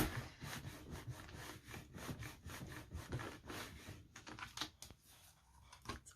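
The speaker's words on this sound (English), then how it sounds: "ink up the stamp. And we'll stamp that" Rubber stamp being inked with Versafine Clair Nocturne black ink and pressed onto card, a series of soft, quiet rhythmic dabbing and rubbing taps repeating closely throughout.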